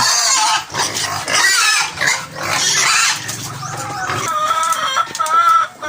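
RTL chickens crowding in at feeding time raise a loud, continuous clamor of clucking and squawking, with grunting livestock noises mixed into the din and no voices.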